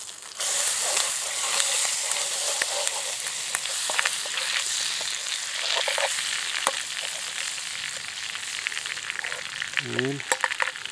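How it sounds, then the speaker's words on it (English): Butter and cooking oil sizzling in a pan on a G2 Firebox camp stove, a steady close frying hiss with scattered crackles and pops and a brief scrape near the end. "A little tab of butter going in there. And I do have some cooking oil."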